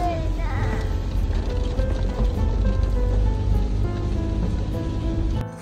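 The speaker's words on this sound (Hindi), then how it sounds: "अच्छी खासी बारिश हो रही है" Heavy rain falling during a family trip in Uttarakhand, a dense continuous hiss and patter with low rumble, steady and loud throughout before cutting off abruptly at the end.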